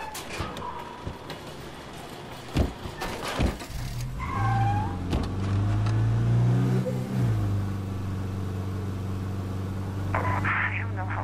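A car engine in State of Decay 2 revs up and holds a steady drone while driving, loud and close. A few sharp knocks come first, then a sustained motor hum with rising pitch.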